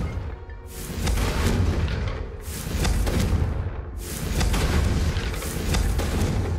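Confringo fire spells burst in Hogwarts Legacy, several heavy booming explosions a second or two apart over steady rumbling combat sound.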